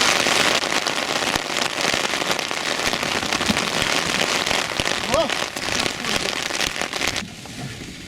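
Heavy rain falls steadily on the slopes of the Nyiragongo volcano, a dense, continuous hiss of drops close by, with a brief faint voice near the end.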